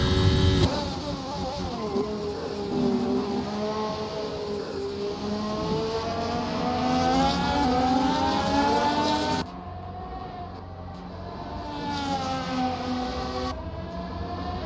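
Formula 1 cars race around the Zandvoort circuit in a racing video game, a sustained engine whine rising and falling in pitch as the car accelerates and shifts, loud and continuous throughout with a drop in level partway.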